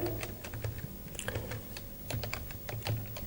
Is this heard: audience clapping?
no